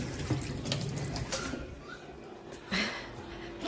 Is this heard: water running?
yes